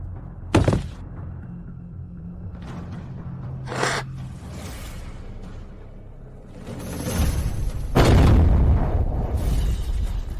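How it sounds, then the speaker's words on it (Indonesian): A loud boom bursts out near the start, followed by a few thuds and whooshes, then a second heavy blast with rumbling debris toward the end. "Kenapa meledak?"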